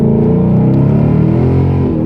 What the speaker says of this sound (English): let me just do a quick pull in this car and let you hear that awesome Roush exhaust